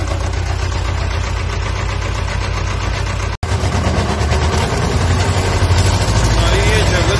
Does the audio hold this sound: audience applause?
no